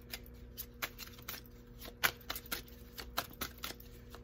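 Tarot cards shuffled close by in a quiet room, a steady run of soft riffling flicks and sharper snaps repeating every fraction of a second, with no talking.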